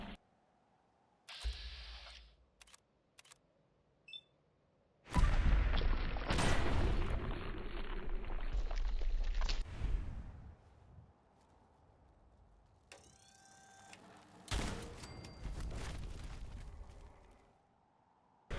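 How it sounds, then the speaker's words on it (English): Loud Gauss Rifle shots fired at a Mirelurk Queen in Fallout 4, each blast a heavy booming burst with a long rumbling tail, separated by quieter gaps and lighter mechanical clicks. "we're testing the Gauss Rifle on the Mirelurk Queen once again"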